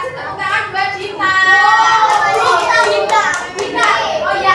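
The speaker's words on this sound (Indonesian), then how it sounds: "Kasih tepuk tangan" Young primary school pupils clap together in a classroom, a dense rhythmic patter of many hands under children's voices and chatter.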